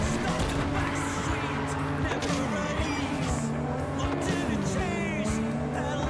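Car crashing into police in the video game Cyberpunk 2077: a constant loud engine drone with shifting pitch, tire squeals and scraping impacts throughout, under someone speaking.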